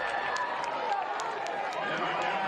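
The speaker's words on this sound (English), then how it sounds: "Crowd likes it." A crowd cheers at a women's ultimate frisbee club national semifinal, a steady broad roar of many voices held at even loudness throughout.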